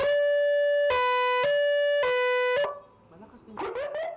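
A vehicle siren, a wangwang sold at a shop in Banawe, sounds in steady, loud tonal bursts with short breaks between them. It then cuts off and a person starts talking.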